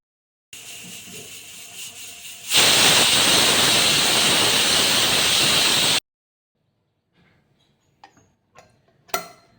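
A pressure cooker whistling while cooking akki husli: a soft hiss swells into a loud, steady, rushing steam blast lasting about three and a half seconds, then cuts off sharply, followed by faint scattered clicks and taps.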